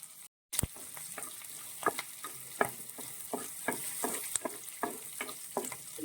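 Curry leaves frying in oil for star fruit pickle sizzle softly after a brief silence, with regular spoon scrapes and taps against the pan at close range.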